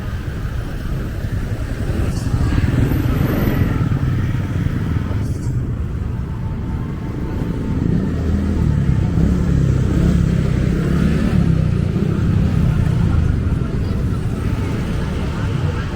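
Motorcycle engines idle and rumble at the Nepa Mall parking entrance in Angeles City, a steady near traffic drone with passing revs and a light horn, under faint background voices.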